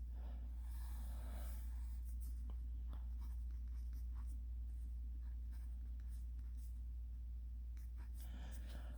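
Pen strokes on paper while graph lines are drawn by hand, a steady faint scratching that runs nearly throughout over a low constant hum, with brief taps and pauses between strokes.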